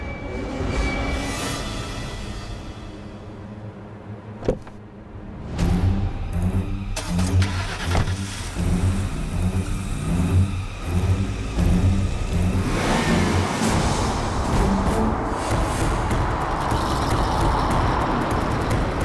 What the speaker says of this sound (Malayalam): അമ്മേ കാറെത്തി